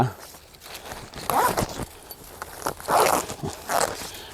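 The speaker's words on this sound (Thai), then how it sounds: "ซิปให้เราปิด" A zipper is drawn shut on a filled compost bag of mixed leaves, giving a few rough, scratchy pulls up close, each a brief burst, with quiet rustling between them.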